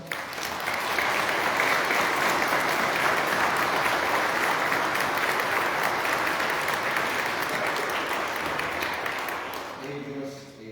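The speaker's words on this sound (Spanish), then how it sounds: "los invito a que les demos un fuerte aplauso" A congregation at a Lenten Sunday Mass gives sustained, loud applause that holds steady for about nine seconds before fading out into quiet at the end.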